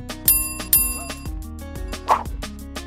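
A bright bell sound effect, used as a notification chime, rings several times in close succession. The first two strikes are the loudest, with a later, softer ding, and each leaves a ringing metallic decay.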